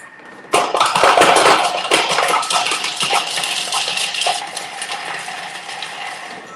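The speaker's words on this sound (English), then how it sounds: "So that's the sound of peeling, is it? It's chopping or peeling?" A kitchen machine at speed 5 whirs and rattles as it chops and peels garlic, loose bits clattering against its bowl, a busy metallic chatter that starts suddenly and keeps going.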